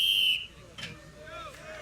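A referee's whistle starts a World's Strongest Man deadlift event: one short, sharp shrill blast at the very start, followed by faint crowd murmur.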